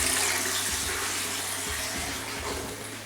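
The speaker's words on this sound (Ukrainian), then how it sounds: "вода собі зливається. Зараз вона чуть-чуть йде під тиском." Water drains under slight pressure from a home heating system, a steady close rushing and hissing flow with a low gurgling undertone, continuous and even throughout.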